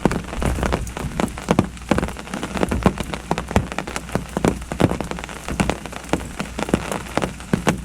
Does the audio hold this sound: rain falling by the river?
yes